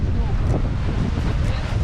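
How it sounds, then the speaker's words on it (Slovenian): Strong wind at sea while sailing off Lanzarote in the Canary Islands, a steady loud rush buffeting the microphone with low rumble and faint wave wash. "Končno smo dobili malo vetra"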